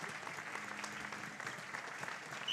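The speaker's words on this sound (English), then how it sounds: "And some generous applause for Carl Hammerlund." Generous applause from the crowd at a men's Interstate Cup basketball final as an injured player is helped from the court, a steady dense patter of clapping throughout with no talk over it.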